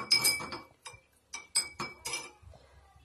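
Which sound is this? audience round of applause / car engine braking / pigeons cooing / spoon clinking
spoon clinking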